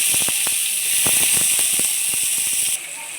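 Steady hot-oil sizzle with a dense high hiss and scattered crackles and pops, close by, easing slightly near the end; no voices.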